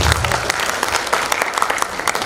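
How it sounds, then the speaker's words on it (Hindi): Brief burst of audience clapping at a farewell function honouring a retiring official, dense and moderately loud for a couple of seconds, with no talk over it. "एक बार तालियां बजा दीजिए।"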